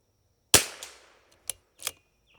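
A rifle fires once at a quarter-inch target while an Arken EP5 5-25x scope is tested, a sharp close crack that decays quickly, followed by a couple of faint echoes or distant reports.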